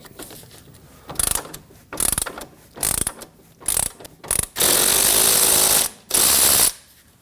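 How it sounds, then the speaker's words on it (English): A ratchet wrench with a 10mm socket, backed by a 21mm wrench, turns the outer tie rod nut on a 2015-2024 Ford Edge: short clicking bursts at first, then two longer, louder runs of rapid ratcheting, close and with no talk. "go ahead and use a 21mm wrench and then a 10mm socket on top"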